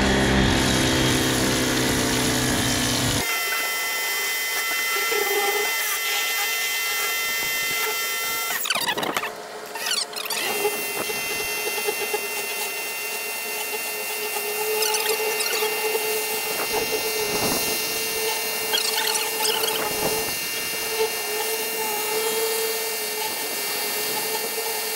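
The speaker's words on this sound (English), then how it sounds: "now I got a turbo washer on there, the spinner one" A pressure washer fitted with a spinning turbo nozzle blasts dried mortar during a grind-and-tuckpoint job, producing a steady, loud pumping hiss and whine that runs almost without a break, with a brief dip partway through.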